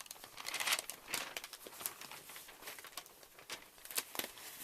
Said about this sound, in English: my first job is going to be to cut some newspaper